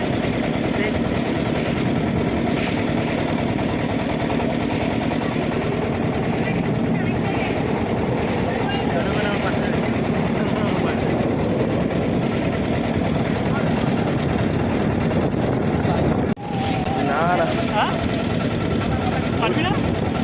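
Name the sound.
motor boat engine in the Sundarbans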